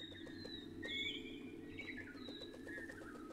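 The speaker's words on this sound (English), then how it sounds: "Birds are chattering like crazy today" Birds in the video game Kynseed chirp and whistle in rising and falling tones, with soft coos and scattered taps, over a steady low background hum.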